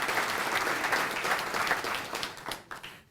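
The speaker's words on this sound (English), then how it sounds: "how about giving them a round of applause so we can thank them for their quick action?" An audience at a cardiac arrest survivors celebration gives firefighters a round of applause, dense crowd clapping that holds steady, then thins and breaks off at the end.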